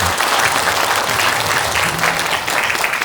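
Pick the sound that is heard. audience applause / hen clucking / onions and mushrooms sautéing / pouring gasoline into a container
audience applause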